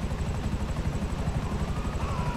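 Close, steady thudding rotor chop from a Buzzard helicopter in GTA 5 Online, sitting landed with the beat pulsing evenly throughout.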